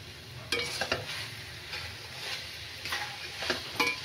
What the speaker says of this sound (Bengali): এখন সুন্দর করে ভাজা ভাজা হয়ে গেছে, একটু ছ্যান ছ্যান আওয়াজ আসছে।